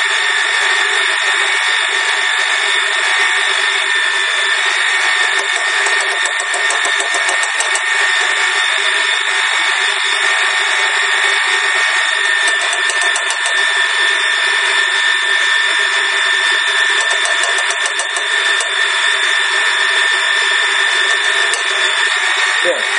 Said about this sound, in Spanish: Dejaremos batir nuestra máquina hasta que se incorpore bien nuestra harina con el resto de la mezcla.